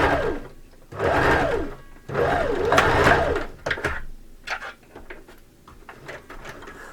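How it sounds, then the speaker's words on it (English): A sewing machine stitches a hem on face mask fabric in two sustained bursts of rhythmic whirring, followed by shorter stops and starts and quiet handling noises. "So now we're just going to sew that into place."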